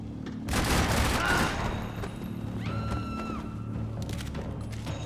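Dual pistols fire a rapid volley in the video game Max Payne 3, a dense burst of shots followed by game effects and quieter ambience.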